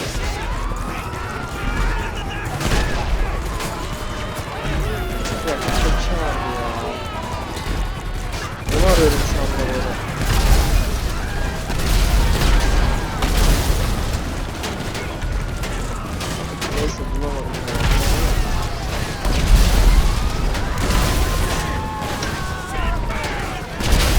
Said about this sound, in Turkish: Bak yine biri tank almış. Bak, bak sıkıyor bak.